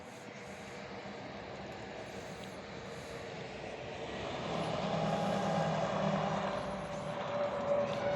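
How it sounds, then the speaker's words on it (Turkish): Steady broadband roar of highway traffic heard from above the road, a continuous rumble that swells louder midway, with no voices. "Araba sesleri geliyor. Otobanın üstündeyim onun için."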